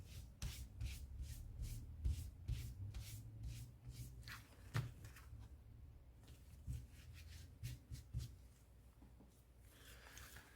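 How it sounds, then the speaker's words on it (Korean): A cloth wiping over a leather handbag during cleaning, soft rapid rubbing strokes in a steady back-and-forth rhythm, close but quiet, with a few light knocks and a pause near the end. "이런 헝겊에 묻혀가지고, 자, 이거 보시면 딱 깨져 나오죠. 이렇게 해서 세척을 해줍니다."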